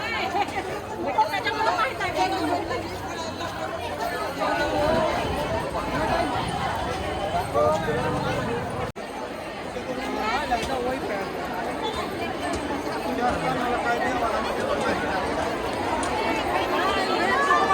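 A dense crowd chatters in the queue at Pandharpur temple, an unbroken, loud babble of many voices close by with footsteps and bustle mixed in.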